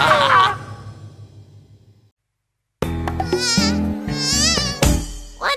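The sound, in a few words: mosquito buzzing in a cartoon song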